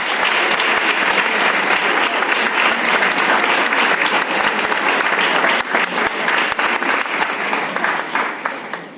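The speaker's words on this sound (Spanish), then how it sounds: "Lo recibimos con un fuerte aplauso." An audience at a lecture hall breaks into dense, sustained applause that stays loud throughout and thins slightly near the end.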